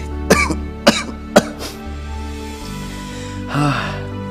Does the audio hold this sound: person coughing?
yes